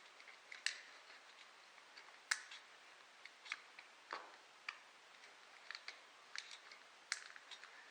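Cutters snipping through a rubber fuel hose on a Chinese pit bike, heard as a faint, irregular series of sharp little clicks and crunches spread across several seconds, with no talking.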